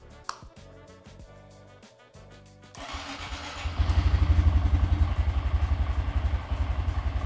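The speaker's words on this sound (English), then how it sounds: "you'll want to go ahead and start the bike up and let it warm up" A 2022-or-later Honda Grom 125 motorcycle on a rear wheel stand cranks and fires up after some clicks and clatter, then settles into a loud, rhythmic, pulsing idle as it warms up.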